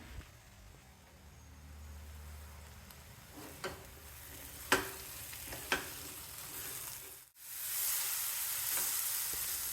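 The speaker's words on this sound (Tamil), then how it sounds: "மசாலா பொடியோட பச்சை வாசனை போகிற வரைக்கும் வதக்கிட்டு" Masala powder sautéing in a pan, a steady background sizzle with a few sharp spoon scrapes and clinks partway through, a brief drop, then a louder brighter sizzle to the end; no speech.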